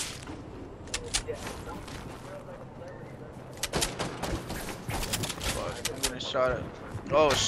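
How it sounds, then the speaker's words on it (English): Gunfire in the Fortnite video game, scattered sharp shots and quick bursts coming in irregular clusters, some near and some farther off, while a person talks excitedly throughout. "I'm getting shot at."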